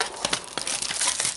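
Crinkly plastic seal tearing off a trading card box close by, in several quick ripping bursts with no voices.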